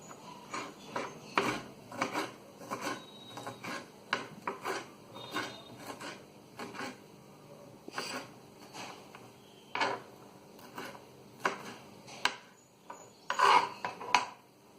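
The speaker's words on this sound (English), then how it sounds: "I'm chopping down the chilies, which we will need for a tomato salsa." Green chilies chopped with a knife for tomato salsa, giving irregular sharp knife taps and scraping cuts against a board, close by and at moderate volume, in bursts with short pauses between.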